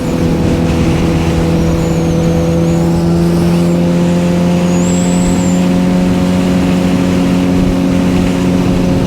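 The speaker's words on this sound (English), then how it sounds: "listen to the sweet sounds of wind blowing and the engine revving" A GSXR 750/600 motorcycle cruises in sixth gear at highway speed around 75 mph, its engine holding a steady loud droning hum with strong harmonic tones, mixed with constant rushing wind noise, close and continuous.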